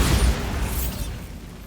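A Bombarda blasting spell explodes in Hogwarts Legacy, a single close, deep boom with a crackling burst that quickly fades into a dull rumbling tail.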